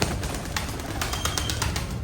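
Released racing pigeons give brief pigeon calls and soft chirps over a steady, fairly loud wash of background noise, with no talk.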